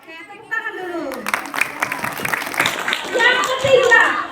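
Children in a primary school classroom break into a burst of hand clapping that swells and continues for several seconds, mixed with voices and chatter in the room.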